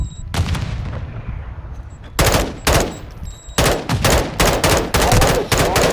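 Loud, close gunfire in Call of Duty: Modern Warfare II, first one shot with a long echoing tail, then a rapid run of heavy repeated shots in quick bursts.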